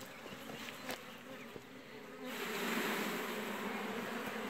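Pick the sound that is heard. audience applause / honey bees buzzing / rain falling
honey bees buzzing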